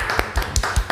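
A handful of distinct claps in a podcast studio, close and fairly loud, spaced at an uneven rhythm over one brief second.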